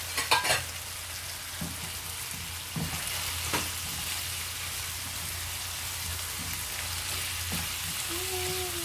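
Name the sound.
stirring mushrooms and chicken frying in a pan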